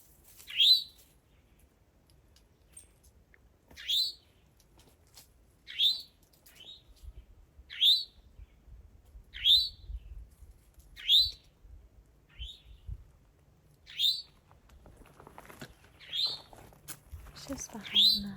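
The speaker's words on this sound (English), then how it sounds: "Beautiful bird." A single bird on the Appalachian Trail repeats a short, high chirp about a dozen times at steady intervals, clear against a quiet forest background with faint low rustling.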